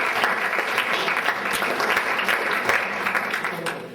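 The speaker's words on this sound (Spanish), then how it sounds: "Un fuerte aplauso por él." An audience at an evening talk on legal advertising and marketing gives a speaker a loud, sustained round of applause, dense clapping filling the room and easing off at the end.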